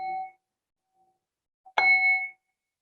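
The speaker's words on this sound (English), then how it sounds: "I'm going to ring the bell again 3 times." A meditation bell struck at the close of a guided practice, each strike giving a clear, resonant tone that rings out and fades, separated by a quiet pause with no talking.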